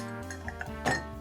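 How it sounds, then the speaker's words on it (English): A large Collins ice sphere drops into a highball glass with a single bright clink, quiet and brief, set against soft background music. "To the highball glass, add a big Collins sphere"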